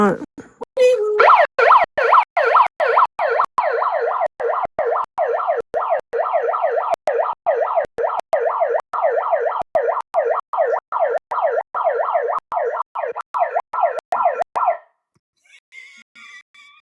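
A loud electronic siren wails in rapid repeating whoops, pulsing steadily for about fourteen seconds before cutting off abruptly.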